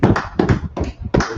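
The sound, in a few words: hand clapping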